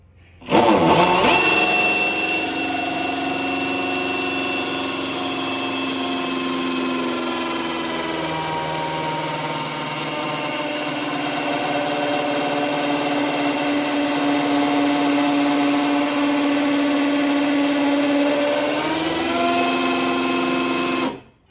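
A Milwaukee power drill turns the engine of a 1971 XY GT during restoration, spinning it by hand-held tool in a workshop. Its steady electric motor whine starts abruptly, holds loud and close for about twenty seconds, shifts pitch slightly, then cuts off.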